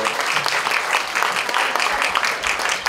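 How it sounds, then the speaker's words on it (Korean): Audience applause at a literary debut ceremony honoring a harpist's performance, a steady burst of many hands clapping for about three seconds with faint crowd murmur. "박수 한번 주세요."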